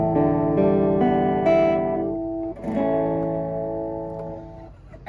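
A PRS SE Parlor acoustic guitar played dry with no reverb, sounding a few sustained strummed chords and ringing notes that fade between changes, close and fairly loud, with no talk.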